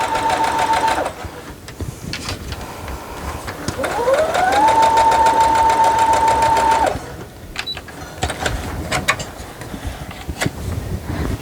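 A sewing machine runs loud and close, stitching quilt pieces for an open gate quilt in steady continuous bursts, pausing briefly near the middle and end, with a sustained whining tone rising and holding under the rapid mechanical stitching.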